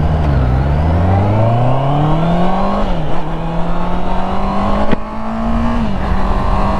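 Honda CBR 650R sport bike with the same engine as the CB650R, revving loudly and continuously up and down with rising and falling pitch, close and steady, no voices.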